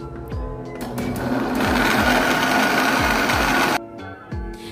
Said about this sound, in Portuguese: Vamos pegar, colocar nesse liquidificador, vamos bater aqui.